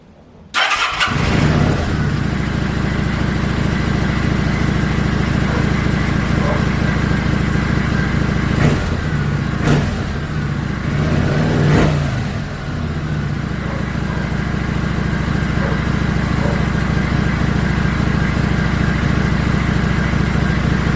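Kawasaki Vulcan 900 motorcycle fitted with a K&N part and a booster plug, cranking and catching quickly, then settling into a loud, close, steady idle with a couple of brief throttle blips partway through.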